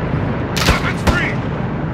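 Gunfire in the Call of Duty Modern Warfare 2 Cartel Protection campaign, two loud close shots with sharp cracks about a third of a second apart over a steady roar of battle ambience.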